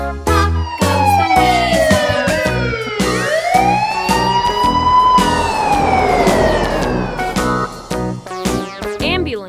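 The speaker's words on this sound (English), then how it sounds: "Ambulance." A wailing ambulance siren sweeps up and down, loud and close, over a rhythmic children's nursery rhyme backing with sharp percussive hits.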